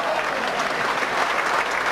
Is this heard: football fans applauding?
yes